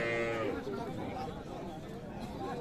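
A Friesian cow lets out a drawn-out moo at the start, over steady crowd chatter and background noise of a busy outdoor cattle market at Raniganj, Dinajpur.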